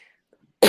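A single short, harsh cough bursts out abruptly at the very end after near silence, close to the microphone.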